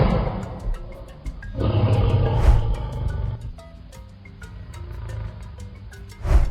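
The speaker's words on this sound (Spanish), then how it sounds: "Este es el león." A lion gives a deep, powerful roar that swells and fades, followed by quieter grunting rumbles and a final burst, heard close and alone with no talking.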